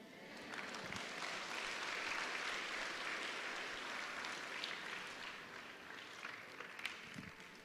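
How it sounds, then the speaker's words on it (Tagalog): Congregation at a church service claps together, a faint but steady wash of applause that swells and then gradually tapers off over several seconds. "yun lang yung palakpak ng nananampalataya"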